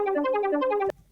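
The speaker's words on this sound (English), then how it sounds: "just a very simple arpeggiated melody. Just repeating. But then I activated the stretch tool." Arpeggiated synth melody from an Electra X preset, time-stretched, repeating a short bright pattern of stepping notes, close and steady, cutting off abruptly just before the end with no talk.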